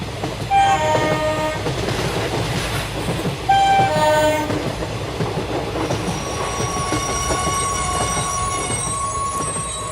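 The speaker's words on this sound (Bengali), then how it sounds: "ঊর্ধ্বশ্বাসে ছুটে ট্রেন গতি কমিয়ে প্রবেশ করল জনকোলাহল মুখর জামশেদপুর স্টেশনে" Train running and slowing as it pulls into busy Jamshedpur station, with rhythmic clatter of wheels on rails, repeated high squeals of braking wheels and a horn-like tone, loud and continuous throughout.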